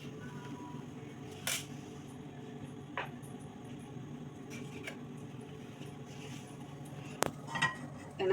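A cooking pot is set on a home kitchen stove with oil, heard as a few sparse, faint metallic clinks and knocks scattered over a quiet room hum, with one sharper clank near the end.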